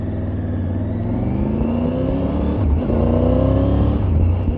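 A 2024 Triumph Tiger 900 Rally Pro three-cylinder motorcycle engine runs close by with a loud, steady droning rumble, rising slightly in pitch as it revs.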